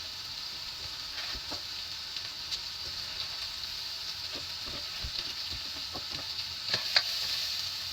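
Onion and garlic sauté in a pan for pork sinigang, giving a soft steady sizzle with scattered spatula taps and scrapes, moderately quiet throughout.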